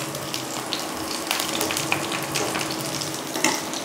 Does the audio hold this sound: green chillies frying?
yes